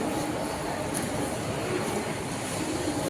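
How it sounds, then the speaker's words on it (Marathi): A train pulls into a station, a steady broadband rumble and rolling hiss that stays loud and even, with faint chatter from people on the platform. "समोर ट्रेन आले"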